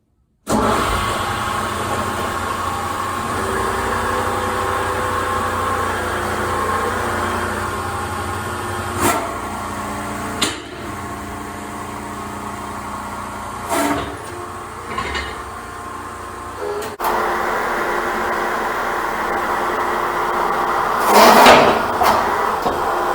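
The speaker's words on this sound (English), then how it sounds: "We got the tooling on the track press for pushing the links apart." A hydraulic track press with tooling pushes crawler track links apart: a steady low mechanical drone with intermittent metallic clunks and knocks, and a brief louder clatter near the end.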